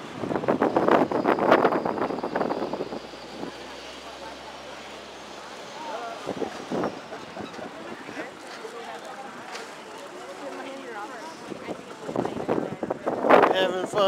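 A bus ride on Shabbat in gusty wind up to 40 mph, with a steady engine and road rumble and wind buffeting the microphone, louder bursts at the start and end, and voices talking over it.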